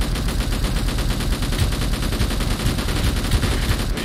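Sustained rapid automatic gunfire in the video game Angels Fall First, a dense, continuous stream of shots with heavy low thumps, loud and unbroken throughout with no voices over it.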